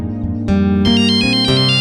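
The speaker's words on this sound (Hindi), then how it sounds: "अरे ये फोन किसका आ गया?" A phone ringtone plays loud and close as a repeating electronic melody of bright tones, with no one talking over it.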